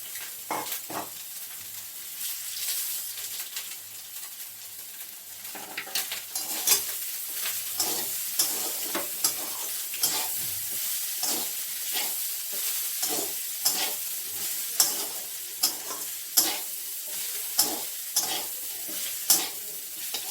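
Rice frying in oil in a pan with potatoes, a steady close sizzle broken by frequent sharp scrapes and clinks of a spoon stirring, with no voices.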